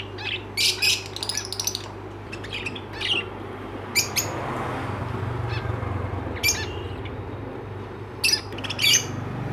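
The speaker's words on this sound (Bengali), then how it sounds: "তো এখানে দেখে নাও কিছু বদ্রি পাখি" Budgerigars chirp and squawk in quick high bursts, several birds calling at once over a steady low hum, with louder clusters of chatter near the start, middle and end.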